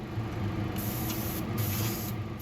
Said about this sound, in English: To keep things simple, again I use a spraying can. This is Tamiya's TS34, the designated camel yellow